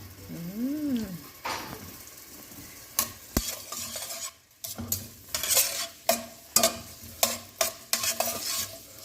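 Onion and garlic stir-fried in a pan for a homemade beef stew, with repeated scraping stirs and bursts of sizzling frying, close and moderately loud, without talk.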